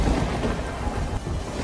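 Heavy rain pours in a dense, steady hiss while deep thunder rumbles underneath throughout.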